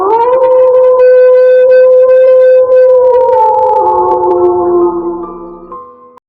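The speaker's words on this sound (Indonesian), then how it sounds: "Hanya suara jangkrik dan lolongan anjing sayup-sayup terdengar" A single dog howls at night, a long, loud, sustained wail that holds steady and then slowly falls and fades away, heard alone with no talk.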